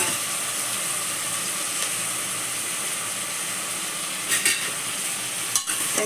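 Onions sautéing in oil for chicken gravy, a low steady sizzle with a few soft stirring clinks, no voices.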